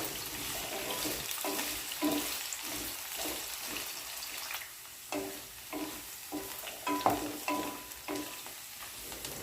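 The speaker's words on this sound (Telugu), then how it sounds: "ఆలుగడ్డ ముక్కలైనా ములక్కాయ ముక్కలైనా బాగా నూనెలో డీప్ ఫ్రై చేయకుండా మామూలుగా ఇట్లా వేయించుకుంటే సరిపోతుంది" Potato and drumstick pieces stir-fry in oil, a soft sizzle under repeated rhythmic scrapes and clinks of a spatula tossing the pieces in the pan.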